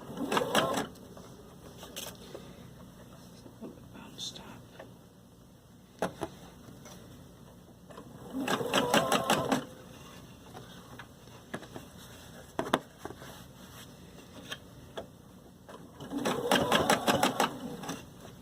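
Domestic sewing machine stitching a sleeve cap into an armhole, running in three distinct bursts of rapid needle chatter separated by quieter pauses with faint handling clicks, close and moderately loud.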